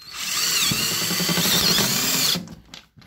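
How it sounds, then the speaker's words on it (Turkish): A power drill drives a screw into wood for a mosquito net and scarecrow build, a loud steady whine lasting about two seconds before cutting off, followed by faint clatter. "Şöyle hemen vidalıyorum."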